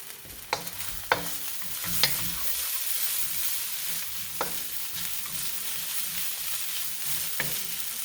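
Cantonese soy sauce noodles fry in a pan as a utensil stirs them, sharp scraping clacks at irregular intervals over a continuous close sizzle.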